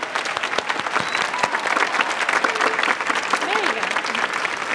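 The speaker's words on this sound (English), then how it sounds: "can we please have a round of applause for our lovely duet and solo people?" A dense burst of audience applause at a choral festival for duet and solo singers, many hands clapping steadily and fairly loudly throughout, with no talking.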